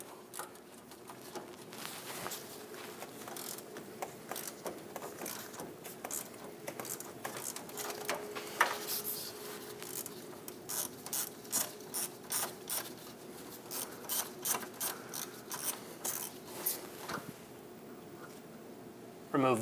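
A ratchet driving an 11mm socket to back out the steering shaft bolt on a 2003-2025 Chevrolet Express 2500 van, giving a long run of rapid, close clicking strokes in uneven bursts.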